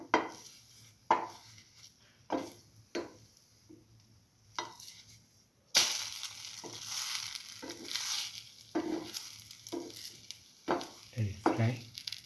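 Chili ginger garlic French toast fries in a pan, a broad hiss broken by repeated sharp taps and scrapes of a utensil, growing louder and busier after a clatter partway through.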